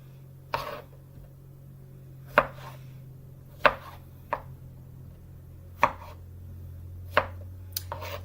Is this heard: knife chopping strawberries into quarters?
yes